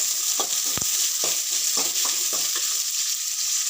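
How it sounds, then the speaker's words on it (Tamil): Two chopped big onions sauté in a pan, giving a steady broadband sizzle with a few soft stirring scrapes and one sharp tap near the start, close and continuous, with no talking. "பெரிய வெங்காயம் 2 கட் பண்ணி வச்சுக்கோங்க. அப்படியே நல்லா வதக்குங்க."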